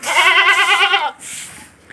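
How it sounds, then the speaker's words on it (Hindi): Goats and sheep bleating outdoors where they roam loose, a close, loud wavering bleat lasting about a second, followed by quieter rustling background noise. "बकरियाँ और भेड़ें जो है ये बाहर ही फिर रही हैं"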